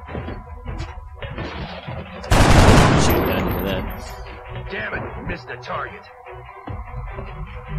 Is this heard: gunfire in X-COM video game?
yes